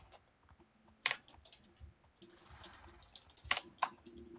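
Quiet, sparse typing on a computer keyboard, a few scattered key clicks with short pauses and two sharper taps, close and alone with no talk.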